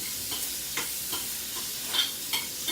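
Shrimp frying in a hot pan and being turned, with a steady bright sizzle broken by several soft scraping stirs and clinks, close and fairly loud, with no talking.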